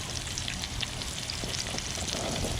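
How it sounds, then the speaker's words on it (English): A seasoned mangrove snapper fillet fries in hot oil, a close, dense, steady sizzle with fine crackling throughout and no talk. "the oil is heated up and you guys can hear that sizzle"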